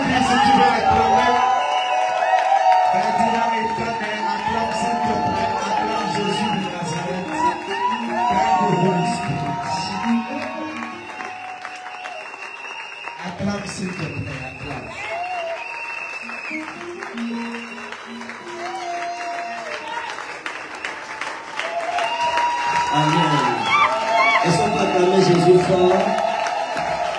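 Congregation at a prophets' mystical altar-destruction service cheering and applauding in acclaim, a dense sustained crowd roar with clapping and whoops over music, swelling again near the end.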